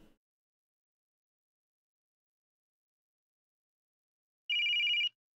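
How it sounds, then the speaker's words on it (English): A telephone rings once in a short electronic trill near the end, loud and isolated after a stretch of silence. "The phone that Kadishan used to contact you began ringing."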